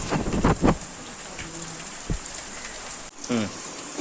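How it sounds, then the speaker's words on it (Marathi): Heavy rain pours steadily in a constant hiss, with a few brief voices and knocks breaking through close by. "एक साईडला भरपूर पाऊस पण आलेला आहे आमच्या इथे"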